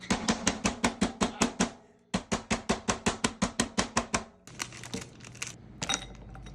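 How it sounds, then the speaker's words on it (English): Frozen Snickers bars are smashed with a heavy meat tenderizer in rapid, evenly spaced thuds, two bursts of about a dozen blows each, followed by looser crinkling and clattering. "I'm just going to use a meat tenderizer because it's heavy."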